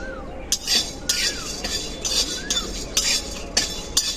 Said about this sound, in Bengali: এটাকে শুকনো কড়াই খুব ভালো করে ভেজে নেব।